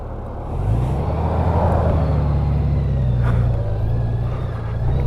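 Vehicle pulling out onto a road in the Blue Ridge Mountains, a steady low engine rumble rising as it gets moving and holding close and loud throughout, with no talking.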